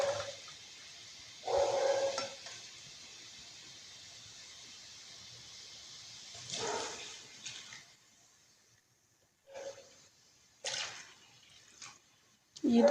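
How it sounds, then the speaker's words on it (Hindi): Water pours into a pan of soaked plums being cooked for chutney, two separate splashing bursts with quieter gaps and a few short clinks in between. "अब 2 कप पानी इसमें ऐड करेंगे।"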